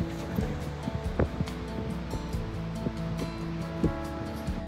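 Atlantic ocean surf rolls onto a beach near Nazaré, Portugal, as a continuous wash under gusting wind noise, with some faint humming tones and no speech.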